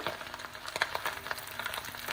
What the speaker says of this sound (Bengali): এরকম নাড়তে থাকবো আরও কতক্ষণ, ভাজা ভাজা হইতেছে।